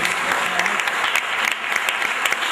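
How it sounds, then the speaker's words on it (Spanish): Hearty applause from an audience at an education event, honouring a professor leading a school project, with dense overlapping claps that stay loud and even throughout. "un fuerte aplauso"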